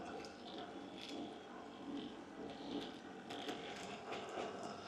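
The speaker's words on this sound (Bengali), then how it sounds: "এই দেখুন এবার আমি আপনাকে চিপস প্যাক করে দেখাবো।" Chip packaging machine at work, its gears and ratchets clicking and clattering steadily with faint mechanical creaks, heard at moderate distance under a low hum.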